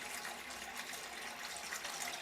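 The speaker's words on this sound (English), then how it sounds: "let's go ahead and just run the water for a minute or two." Steady broadband rush of water running from a household tap after a Culligan P5 whole house water filter change, continuous and even, with no talk.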